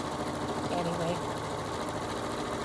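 A sewing machine stitches a quilt block, giving off a steady fast mechanical whir at moderate volume. A person talks over it.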